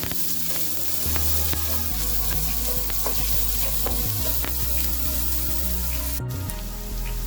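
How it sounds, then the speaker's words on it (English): Onions sizzle steadily in a hot pan for egg fried rice, with a continuous frying hiss, crackles and occasional clinks or stirring taps, loud and close throughout. "I'm going to add in the onions. And fry the onions"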